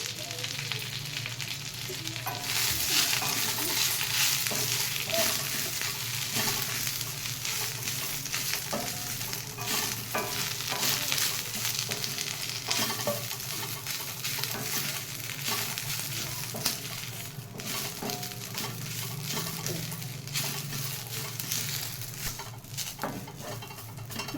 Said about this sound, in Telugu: ఇప్పుడు ఇదే కళాయిలో మనం మునగాకు వేసుకుందామండి. మునగాకు తడిపోయే వరకు వేసుకోవాలి మనం, బాగా డ్రైగా అయ్యే వరకు.